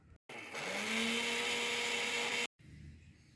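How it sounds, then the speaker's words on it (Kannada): A kitchen mixie grinder whirs steadily for about two seconds as it grinds a cooled tomato masala into a smooth paste, its motor pitch rising slightly as it spins up, starting and stopping abruptly. "ಈ ಮಸಾಲೆನ ಒಂದು ಮಿಕ್ಸಿಗೆ ಹಾಕ್ಕೊಳ್ಳಿ. ಚೆನ್ನಾಗಿ ರುಬ್ಬಿಟ್ಟು ಇದನ್ನು ನೀಟಾಗಿ ಒಂದು ಪೇಸ್ಟ್ ಥರ ಮಾಡ್ಕೊಳ್ಳೋಣ"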